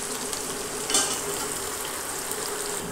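Okra (bhindi) frying in a pan gives a steady, loud sizzle throughout, with a brief scrape of stirring partway in.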